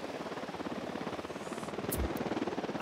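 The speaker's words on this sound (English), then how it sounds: "Helicopter incoming." Rapid rhythmic rotor chopping from a helicopter in the video game Ghost Recon Wildlands, fairly faint and steady, growing slightly louder toward the end.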